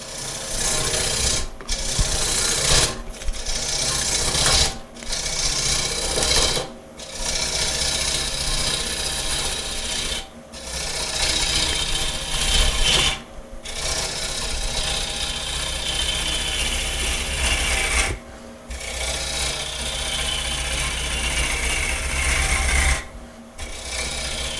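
A wooden bowl turned slowly on a lathe, the gouge nibbling off the square corners of the blank: a steady rasping cut recurring in bursts of several seconds, broken by brief pauses, close and fairly loud, with no talking.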